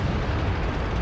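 A tank gun fires at a Centurion 7-1 in a tank video game, heard as a single dense, booming blast and its roar that fills the short moment at close range.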